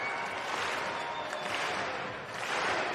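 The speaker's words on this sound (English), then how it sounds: "he's getting the clap going" A basketball arena crowd at a BBL cup final dunk contest between the Newcastle Eagles and the London Lions claps along in a dense, continuous wash of applause and crowd noise, steady and fairly loud.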